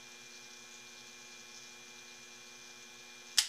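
A lathe turning a swivel adaptor gives off a steady, faint electric hum, ending with a sharp click or knock.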